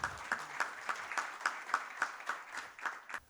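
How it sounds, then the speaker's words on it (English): A small seminar audience claps for a few seconds, a fairly quick, even rhythm of hand claps that stops abruptly. "can we have a huge round of applause for Dr. Ghanshyam?"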